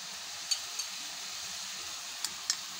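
Chicken frying in a pan, a faint, steady hiss with a few sharp pops and crackles scattered through it.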